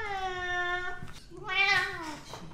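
A cat meows during an animal chiropractic session, two drawn-out, tonal meows a moment apart, fairly close but not loud.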